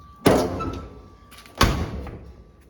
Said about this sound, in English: I'm going to move here, and I'm going to shut the door.